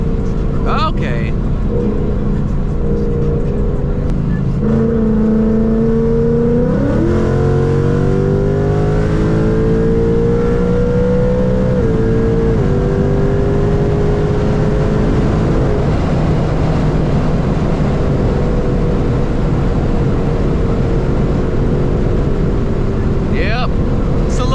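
A 2019 Ford Mustang GT V8 with its muffler deleted, revving hard and extremely loud from the driver's seat, the engine note climbing and falling through several sustained pulls under a constant roar.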